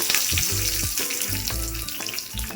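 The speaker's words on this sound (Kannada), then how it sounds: "ಇವಾಗ ಕರ್ಬೇವು ಹಾಕ್ತಾ ಇದ್ದೀನಿ" Curry leaves sizzle in hot oil with mustard seeds for the tempering of a thondekayi (ivy gourd) chutney, a steady close frying hiss with bursts of crackle and low bubbling, without talk.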